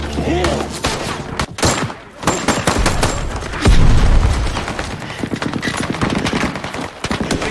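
Sustained bursts of gunfire in an attack on a remote military outpost, rapid volleys and heavy booms overlapping continuously, loud and chaotic like a close battle, with faint shouting mixed in.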